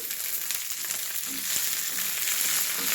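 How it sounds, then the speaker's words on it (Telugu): Curry leaves fry in a pan with a steady, bright sizzle that stays close and even throughout, with faint stirring scrapes underneath. "బాగా ఫ్రై అవ్వాలండి అలాగే ఒక నాలుగు రెమ్మలు కరివేపాకు వేస్తున్నానండి"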